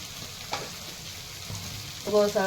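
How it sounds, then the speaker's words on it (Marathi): Garlic and green chili sautéing in a pan for a ridge gourd bhaji, a steady close sizzle punctuated by a few stirring knocks, with a faint voice-like tonal sound near the end. "लसूण छान परतलं नव्हतं आता मिरची छान परतली"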